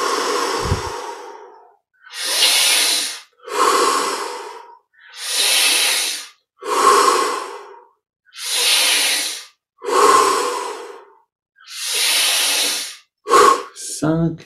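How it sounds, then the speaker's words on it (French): Deep breathing exercise in a yoga practice: eight long, forceful nasal inhalations and exhalations in steady rhythm, each a loud hissing rush with short gaps, close to the microphone and ending in quicker breaths. "On augmente l'amplitude et l'intensité de chaque respiration."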